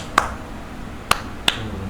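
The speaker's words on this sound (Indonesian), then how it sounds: "Tepuk tangannya bukan telapak sama telapak, tapi kayak gini." Three sharp, isolated claps made with the backs of the hands, spaced irregularly and fairly close, each a crisp slap over a quiet room.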